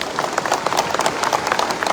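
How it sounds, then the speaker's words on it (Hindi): An audience at an AJSU Party Balidan Diwas rally claps hard and steadily, a thick close patter of many hands with no break. "मैं चाहता हूं कि पूरा मंच एक जोरदार ताली के साथ उनका सम्मान करे।"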